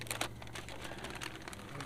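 Plastic packaging of rice noodles crinkling and crackling as it is pulled open, a close, busy run of sharp rustles over a low steady kitchen hum.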